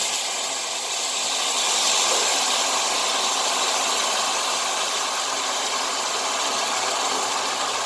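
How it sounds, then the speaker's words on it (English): Red blend wine deglazing a hot pan of pork tenderloin drippings, a loud steady broadband sizzle and hiss holding evenly for several seconds with no speech. "we're going to deglaze this pan here of goodness with some red"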